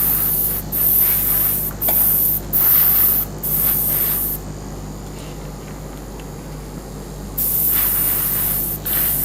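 An airbrush spraying primer onto painted figures gives close, loud hissing bursts of varying length with short gaps, followed by a quieter stretch and another long spray.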